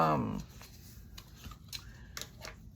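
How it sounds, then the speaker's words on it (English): Scissors cut folded paper during a craft project, producing a few brief, crisp snips and rustles close by after a short burst of voice at the start. "I fold the paper in half, both of them, and cut it with my scissors."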